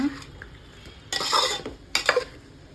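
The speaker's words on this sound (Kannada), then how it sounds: "ಈಗ ಇದಕ್ಕೆ ಪ್ಲೇಟ್ ಮುಚ್ಚಿ ಇಟ್ಬಿಡೋಣ" A plate set down over a cooking pot of chicken biryani, giving two short clattering bursts of crockery against metal, fairly close and with no voices.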